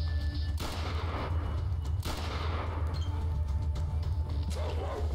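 Pistol shots in the video game ATOM RPG: two sharp reports, one near the start and one about two seconds in, over a steady low hum, with faint later pops.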